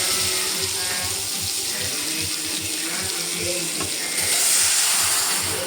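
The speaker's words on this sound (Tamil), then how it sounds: "இங்கே அடுப்பத்தை வச்சு கடாய் வச்சுருக்கேன். அதில் பட்டர்," Butter sizzles in a kadai on a stove while making wheat-flour snacks, a steady loud frying hiss and crackle that rises slightly toward the end, with no voice over it.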